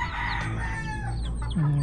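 A chicken clucks and calls nearby, with a short sustained cry at the end over steady background noise.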